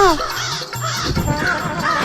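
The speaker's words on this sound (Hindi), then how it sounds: "तभी एक कौवा उस पोटली को अपनी चोंच में लेकर" A cartoon crow gives a few harsh, close caws in quick succession, followed by a scratchy rustle and further raspy calls.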